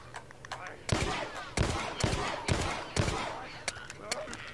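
Enemy gunfire in The Last of Us: Left Behind, with several sharp, loud shots spaced about a second apart over a steady game ambience.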